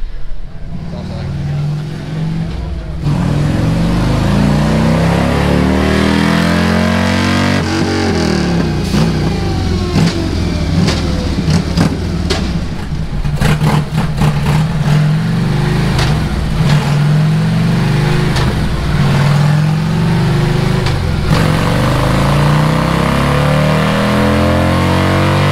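A car engine revs hard on a dyno at a burnout and dyno test day, a loud sustained roar rising and falling over about twenty seconds with crowd noise and voices beneath it.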